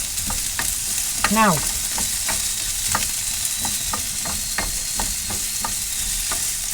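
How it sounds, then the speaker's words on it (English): Food sizzles and fries steadily in a pan while corned beef hash is being made, with stirring clicks and scrapes over the continuous hiss and a brief spoken word. "I'm just frying that for the time being"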